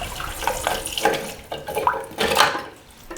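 Tap water running from a bathroom sink in a house with a toilet cistern, a steady close splashing stream that surges and eases, heard alone with no talking.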